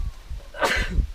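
One short, muffled sneeze bursts out quickly, close by, amid quiet background noise.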